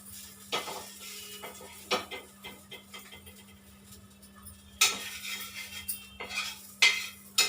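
Aloo tikki being set onto a plate: scattered close clinks and scrapes of a utensil against the plate and pan, irregular and unhurried, over a faint background hum with no talk.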